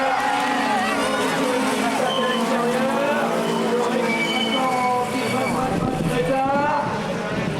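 Rallycross race cars at the 2008 French championship round in Lavaré roar past on the track, with engines revving and tires working, under continuous excited commentary.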